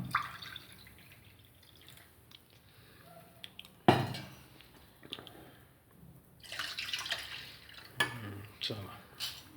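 Water is poured into a pan for tea with splashing and dripping, among clinks of utensils and a metallic knock, while voices speak faintly nearby.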